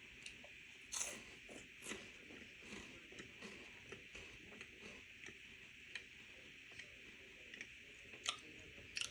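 Quiet, close crunching of Kit Kat chocolate, with a series of soft irregular bites and chews spread across the stretch, no talking over them.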